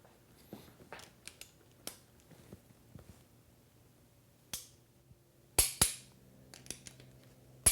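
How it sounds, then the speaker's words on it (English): Metallic clicks and ratcheting knocks from a Craftsman torque wrench with a 1/2-inch socket tightening Chevy 350 small-block cylinder head bolts to 70 foot-pounds, scattered sharp taps through a quiet stretch with louder bursts near the end. "So we're going to take our Craftsman torque wrench and our 1/2-inch socket and torque them all down to 70 foot-pounds"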